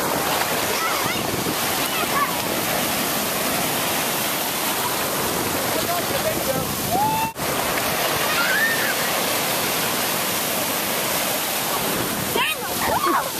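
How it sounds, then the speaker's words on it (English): Ocean waves breaking and washing onto a beach, a steady loud roar of surf with churning water throughout, close by, with faint voices briefly in the background. "I'm getting attacked by the waves."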